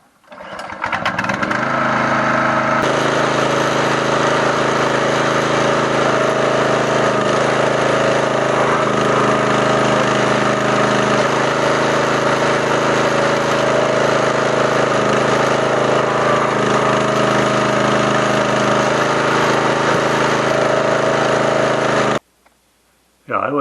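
The engine of a Benchmark 25 ton wood splitter runs loud and steady at full throttle for about twenty seconds, a dense unbroken drone that cuts out just before the end.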